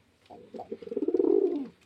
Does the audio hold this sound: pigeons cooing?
yes